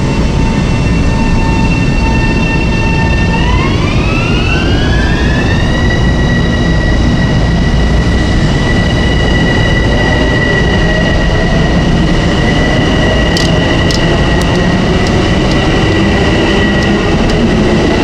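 A Long Island Rail Road train on the Port Jefferson Branch pulls in close and loud, with a steady roar, tonal whine rising in pitch, and a few sharp clicks toward the end.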